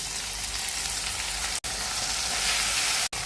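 Tomatoes, ginger and garlic fry in hot oil for a fish and taro curry, giving a loud, even, continuous sizzle broken by two very brief dropouts.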